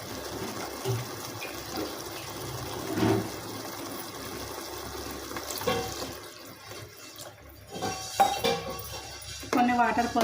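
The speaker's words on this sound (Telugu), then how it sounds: "కొన్ని వాటర్ పోసుకున్నాను." Water is poured into a cooking pan for a tomato curry, a soft splashing and trickle with light clinks of utensils, with someone speaking over it in a home kitchen.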